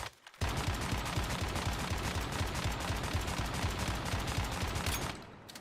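Rapid crossbow fire from a recurve crossbow in a video game, a dense continuous stream of sharp repeated shot impacts lasting about five seconds, loud and steady with no talk.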